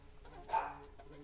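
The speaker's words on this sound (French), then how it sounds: "Désolée pour mon chien, il y a mon fils qui doit être rentré du travail." A pet dog indoors at home gives a single short bark, fairly faint, against a quiet room background.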